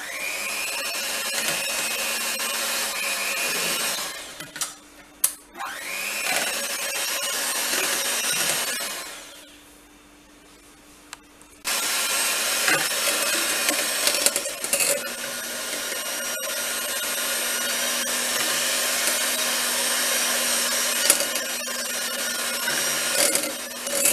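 An electric mixer whirs steadily while blending a chocolate ice cream mixture, with a brief stop partway before the loud buzzing resumes, with no voices.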